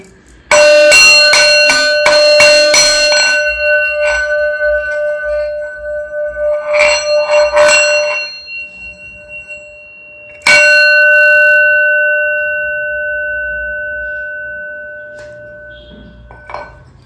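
A metal bell rings loudly and alone: a quick flurry of strikes opens, the tone hums and fades, then a single hard strike rings out and decays slowly to the end.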